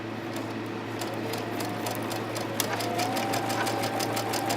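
A sewing machine stitches a quilt block seam, needle thumping in a steady fast rhythm over a constant motor hum, close and moderately loud with no talking.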